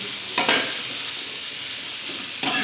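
Sliced okra fries in a little oil for a sabzi with a steady, close hiss. Stirring scrapes break in twice, once near the start and again at the end, and no one talks.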